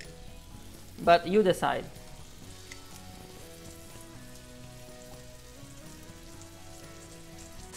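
Basa fillets frying in a pan, a brief burst of sizzling spatter near the start, then a faint steady background crackle, with light talk over it.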